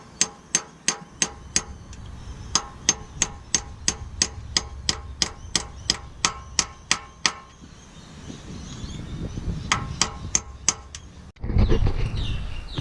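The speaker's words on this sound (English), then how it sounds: "Get it started with the hammer." Hammer blows ring out on a socket fitted to a car engine part during an R31 manual conversion, a quick run of sharp metallic strikes at first, then spaced single hits, ending in a louder scraping clatter.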